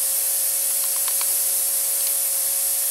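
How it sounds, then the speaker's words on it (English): Compressed air hisses steadily from an air brush fed by a compressor in a workshop with a CNC mill, the WD-40 feed switched off, a constant broad airy rush with a few faint ticks over it and no talking. "I've turned the WD-40 off, but the air's still running."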